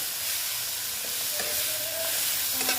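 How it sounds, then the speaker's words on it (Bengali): Spring onion stalks sauté in a pan with spices, giving a steady bright sizzle and hiss throughout with faint background noise. "দেখো পেঁয়াজ কলিটা আমি এইভাবে কষিয়ে নিচ্ছি"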